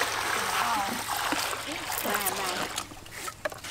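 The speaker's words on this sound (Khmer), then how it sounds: "ចាក់ទឹកត្រាំចេកសិនណាដើម្បីធ្វើឲ្យខ្លាំង" Water is poured over green bananas to soak them for a banana cake, giving a splashing, trickling sound under a person talking nearby.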